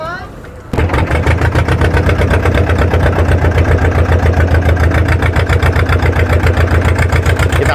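A boat's motor on the Godavari river, carrying passengers across about half a kilometre between two districts, starts up and settles into a loud, steady, rhythmic chugging that runs unbroken and close by.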